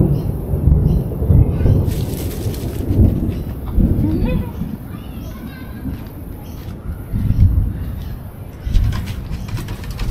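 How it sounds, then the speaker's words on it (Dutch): Distant thunder rolls outdoors near the easternmost point of mainland Australia, low rumbles swelling and fading over about ten seconds, with birds cooing and calling faintly throughout. "Hoor je die onweer?"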